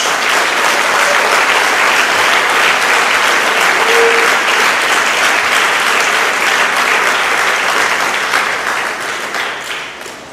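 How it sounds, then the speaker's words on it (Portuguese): A church congregation claps in sustained, steady applause at a worship service, a dense wash of hands that stays strong throughout and tapers off slightly near the end. "Dê uma salva de palmas a Jesus"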